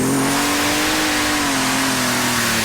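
An alcohol super stock pulling tractor at a 2008 pull in Henry, Illinois roars loud and steady at launch, a dense sustained engine howl with a slowly sliding pitch and no talk.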